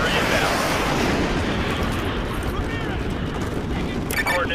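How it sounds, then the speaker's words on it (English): Dense, continuous rumble of artillery explosions during a Call of Duty Modern Warfare 2 battle, loud and sustained with no clear breaks, heavy booms blending into a constant roar. "Fire mission received. Artillery inbound."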